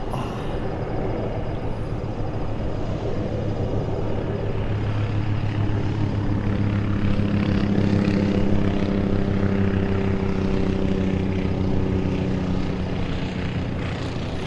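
An Embraer Phenom 100 jet in Microsoft Flight Simulator VR gives a continuous engine drone with steady low rumble and a faint whine, unbroken and even throughout.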